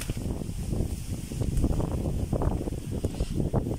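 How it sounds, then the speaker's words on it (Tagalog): Strong wind buffets the microphone at an open windy spot during a typhoon on the coast, a steady rumbling roar with gusty swells and no speech. "nandito na tayo sa mahangin na lugar"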